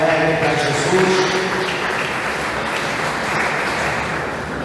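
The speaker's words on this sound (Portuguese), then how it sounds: "dê uma salva de palmas bem alegre para Jesus" Church congregation applauding for Jesus during a service, a loud, dense, sustained wash of clapping from a crowd, steady throughout, with faint tonal sound from instruments or voices early on and no clear speech.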